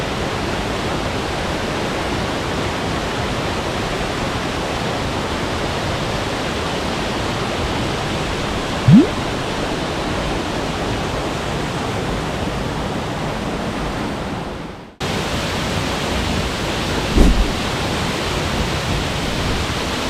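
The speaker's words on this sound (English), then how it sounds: "I had to stop and get some video of these 3 waterfalls" Roadside waterfalls in Washington roar steadily, a loud broadband rush of falling water that runs unbroken, briefly cut off near the end before resuming, with a couple of small knocks.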